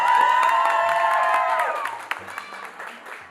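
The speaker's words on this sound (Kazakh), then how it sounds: "Алтайға қол шапалақ" A crowd at a wedding celebration applauds and cheers for a contest winner, loud at first and then fading, with a voice ringing over the clapping.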